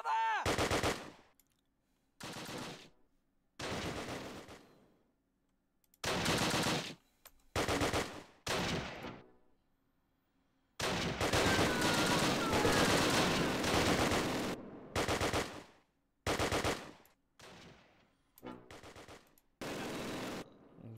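Bursts of gunfire in the Close Combat Last Stand Arnhem battle game, with loud machine-gun volleys and rifle shots coming in separate clusters, including one long sustained burst, divided by short quiet gaps.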